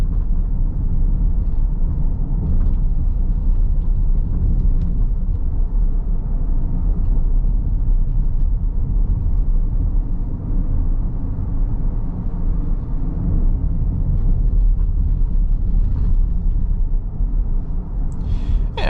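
Interior of a 2024 Kia Carnival minivan driving over a patched, potholed road, a steady loud low rumble of tire and road noise with faint thumps from bumps throughout.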